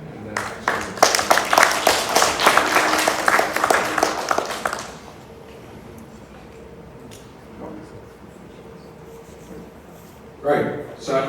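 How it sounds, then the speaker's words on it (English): A conference audience claps for a speaker in a dense burst of applause lasting about five seconds. It stops abruptly, leaving a quiet room, and then a voice speaks. "everyone could give a round of applause for Jason again"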